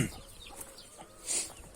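Hens clucking faintly in short, scattered calls over a soft background hiss, somewhat distant and quiet.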